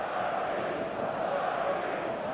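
Stadium crowd in an eFootball match, a steady dense roar of many voices filling the space with constant energy and no breaks.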